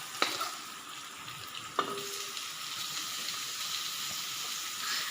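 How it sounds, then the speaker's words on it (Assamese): Bamboo shoots and meat fry in a pan with a soft, steady sizzle, punctuated by a couple of sharp clinks from stirring, fairly quiet and close with no talking. "এতিয়া আমি বাঁহগাজটো দি 15 মিনিটমান আমি এনেকৈ ভাজিম।"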